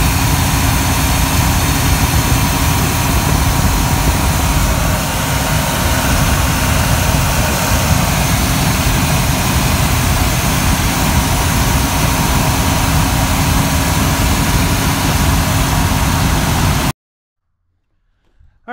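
A 1980 Chevrolet G-20 van's engine drones steadily and loudly with a heavy low rumble, running continuously as the van drives down the road, then cuts off abruptly near the end.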